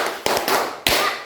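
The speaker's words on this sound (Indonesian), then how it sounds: "Bapak mau memberi tepuk semangat." Schoolchildren in a classroom finish a rhythmic spirit clap, a few loud, sharp, close claps in a quick pattern with almost no talking.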